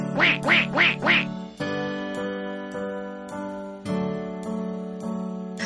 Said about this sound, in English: On hearing the ducklings quack